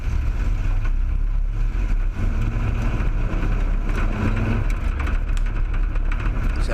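A race car engine roars loud and close as the car pulls away on a first drive, a steady broadband drone with no talk over it.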